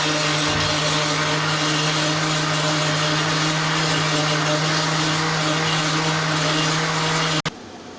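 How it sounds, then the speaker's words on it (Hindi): A kitchen blender whirs loudly and steadily as it blends lassi with sugar, a constant motor hum with a churning roar that cuts off abruptly near the end. "अब हम इसको ब्लेंड करते हैं ब्लेंडर पे।"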